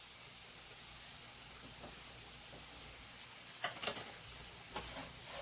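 Half a cup of white sugar stirred in a pan over medium-low heat: a quiet, steady hiss with a few soft scrapes and clicks of the spoon toward the end, no talking.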